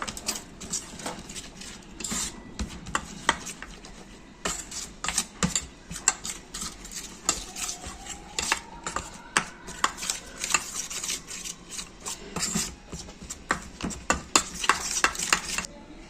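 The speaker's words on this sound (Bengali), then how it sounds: "বেসনটা দেব অল্প একটু একটু জল দিয়ে ব্যাটারটা তৈরি করে নেবো" Gram flour batter being stirred with a little water added bit by bit, spoon clinking and scraping against a bowl in irregular close taps and swishes, with no talking.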